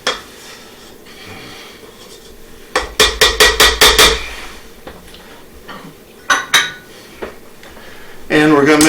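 A spoon mixes Bohemian houska dough with eggs and shortening in a bowl, producing loud, close clattering that peaks in a rapid burst of rhythmic knocks, then a few separate clanks, with some speech around it.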